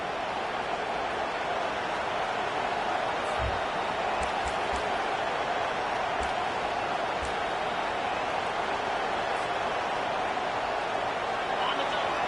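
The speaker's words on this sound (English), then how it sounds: "This crowd, full throat, splitting the eardrums and letting them know it's going to be a long day." Dense, steady roar of a large stadium crowd at a college football game with Arkansas playing, a constant broad wash of cheering that never lets up, with a few faint low thumps near the start.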